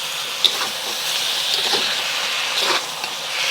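Green onions dropped into hot ginger onion sauce sizzle with a steady, close hiss that swells briefly, and one small sharp click comes early on.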